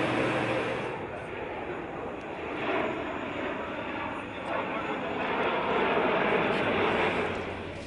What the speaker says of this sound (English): Welcome back to the Farnborough Air Show.